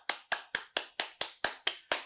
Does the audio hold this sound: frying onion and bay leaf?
no